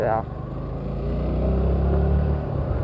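Hero Splendor motorcycle engine rumbling steadily on a road, a low continuous drone with wind buffeting, while a person talks over it.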